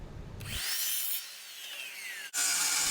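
A saw slices through a scrap wood strip, a short whining cut lasting under two seconds with a rising then falling tone, close and loud, without talk.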